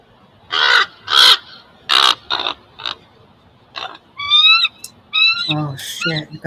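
Loud, repeated raspy calls sound close by, with rising whistle-like cries in between, as a hawk circles overhead outdoors; a voice speaks briefly among the calls.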